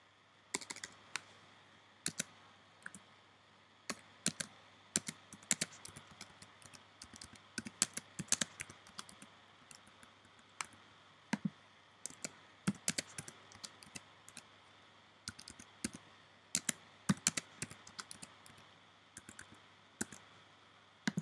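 Keys clatter on a computer keyboard while a username and password are entered, a steady run of quick, close clicks in uneven bursts with short pauses and no talk.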